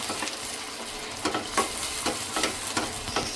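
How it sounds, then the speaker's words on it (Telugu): Tomato puree is stirred into onions frying in a pan for a gongura fish curry, giving a steady sizzle broken by a few distinct scraping stirs of the spoon, close and alone with no talk. "ఇప్పుడు మనం చేసి పెట్టుకున్న ఈ టమాటా ప్యూరీని కూడా వేసేస్తున్నాం. ఒక్కసారి కలిపేసుకుందాం."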